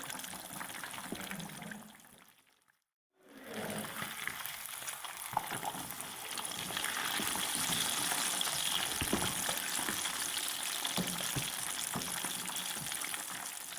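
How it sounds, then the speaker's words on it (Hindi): Fish pieces fry in hot oil with a steady, crackling sizzle. The sizzle drops out briefly for a moment, then returns fuller and louder and keeps going without any talking. "4-5 मिनट हो गए हैं इसको फ्राई होते हैं, अब इसको भी पलट लेते हैं।"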